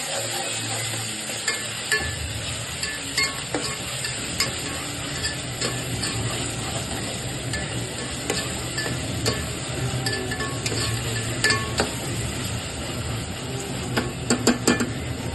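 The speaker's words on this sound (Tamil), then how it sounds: "எல்லாத்தையும் வதக்கணும்" Ingredients for a coriander chicken gravy sizzle in a pan with a soft, steady frying hiss, broken by frequent clinks and scrapes of a spoon stirring against the metal.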